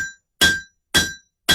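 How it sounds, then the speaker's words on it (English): Three loud, evenly spaced hammer blows ring out against a metal Calla Lilly candle holder while its face is flattened. Each strike has a sharp clang and a bright ringing tone that fades before the next blow. "specifically because of the hammer strikes"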